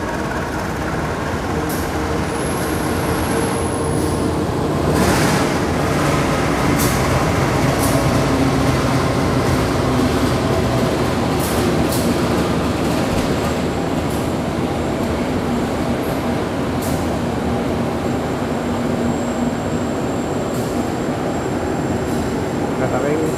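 An Indonesian passenger train, the Argo Muria night service from Jakarta to Semarang, rumbles steadily throughout, with continuous rail noise and faint high squeals, while people talk intermittently in the background.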